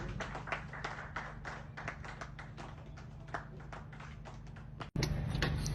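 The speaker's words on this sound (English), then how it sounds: "Another round of applause, please." An audience at a talk for people 45 and above applauds the speaker with a steady patter of claps that fairly few hands make, thinning slightly over several seconds before it cuts off abruptly into a humming background.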